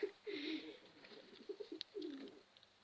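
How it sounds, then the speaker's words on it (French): A baby wood pigeon squab less than a week old making faint, soft cooing and murmuring calls in short, uneven bursts close by in a quiet space. "Un petit pigeon ramier."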